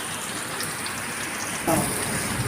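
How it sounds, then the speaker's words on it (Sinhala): Rain falls steadily in the background while a fish machbus is cooked, a soft, even patter at low level, with a short louder clatter near the end. "අද නම් හොඳට වහිනවා"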